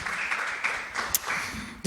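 Applause from an audience at a Portuguese talk event on bureaucracy and mental health, a steady wash of clapping filling the short moment with a brief louder burst near the end.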